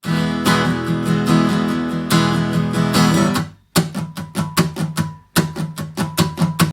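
Steady acoustic guitar strumming in a driving straight rock-and-roll rhythm, continuous at first, then a brief pause before crisp, choppy strums resume.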